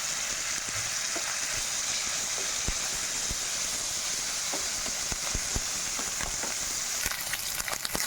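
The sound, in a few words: ginger garlic paste frying with prawns in pan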